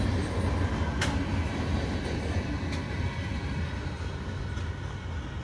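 Long freight train M566 from Chicago, hauled by two SD70AC locomotives, rolling past as a continuous loud rumble and rail roar with a few sharp metallic clanks, no speech.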